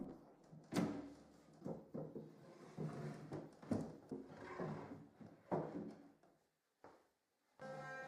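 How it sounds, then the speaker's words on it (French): Wooden drawers on a Mid-Century Modern sideboard, their runners rubbed with candle wax, slide open and shut several times, giving close, soft scraping glides and dull knocks before a short pause and a final movement. "Cela faciliterait l'ouverture des tiroirs."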